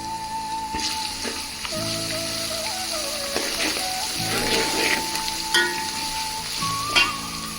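Ginger, garlic and green chilies frying in hot oil, a continuous crackling sizzle with occasional stirring scrapes, close and moderately loud, joined by faint steady tonal hums from something in the background.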